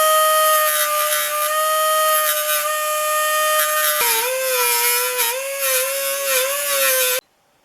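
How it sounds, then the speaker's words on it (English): A power grinder steadily grinds out cracks in the cast-iron body of a Stanley No. 5 hand plane, a loud continuous whine that drops in pitch partway through under load, then cuts off abruptly near the end. "First step in doing that is to carefully grind out the cracks."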